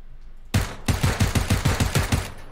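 Repeated gunfire from a revolver in a multiplayer video game, nine or so sharp loud shots in a fast, fairly even rhythm after a brief quiet start, with no talk over them.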